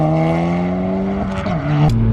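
A tuned stage 2 Audi S1 rated around 340 brake horsepower pulls away with a loud, close engine note that rises in pitch, drops briefly at a gear change, then climbs again.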